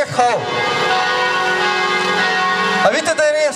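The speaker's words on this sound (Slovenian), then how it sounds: "A vidite, da je res, se zvoni?" Church bells ring in Koper, Slovenia, during a street protest, a sustained metallic peal that fills the clip, with voices briefly over it at the start and again near the end.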